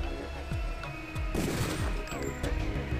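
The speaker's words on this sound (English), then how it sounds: "I lured a guy inside with the sound of gunshots." Rapid bursts of gunfire crack in quick succession amid crashing impacts, loud and chaotic, like a flurry of weapons firing in the video game Deus Ex, with no voices.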